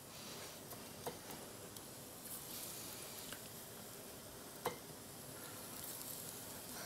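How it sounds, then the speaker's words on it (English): Food fries in hot vegetable oil with a soft, steady sizzle and a few faint scattered pops and crackles, heard quietly and alone. "And then into the hot oil"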